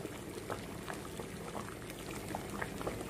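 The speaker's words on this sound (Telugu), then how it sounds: "పులుసు బాగా మరిగిపోతుంది" A pot of goat head soup seasoned with garam masala bubbles at a rolling boil. Soft, irregular pops and blips rise over a dense, low simmer, heard up close but fairly quiet.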